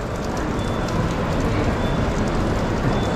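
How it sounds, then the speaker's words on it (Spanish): Steady rain falls and patters on surfaces, a constant loud hiss with no talking. "Está lloviendo"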